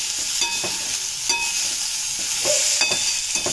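Chopped tomatoes sauté in a pan for a no-onion, no-garlic cashew kurma, with a steady sizzle and repeated scraping stirs of a spoon at close range.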